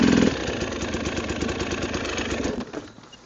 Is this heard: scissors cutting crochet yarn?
no